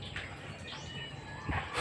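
A racing pigeon at a club loft during a training flight, arriving back from Kawit, Cavite, gives a brief, soft coo amid faint chirping of other birds and steady outdoor ambience.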